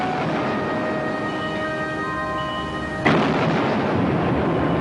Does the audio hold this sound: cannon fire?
yes